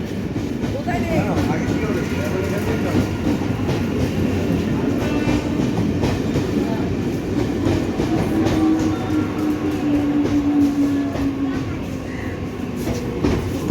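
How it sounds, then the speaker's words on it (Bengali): A train rolls steadily into a station in Naihati, its loud, continuous rumble and clatter of wheels on rails filling the scene close by, with a faint horn-like tone rising midway. "এই তো আমাদের ট্রেন ঢুকে গেছে"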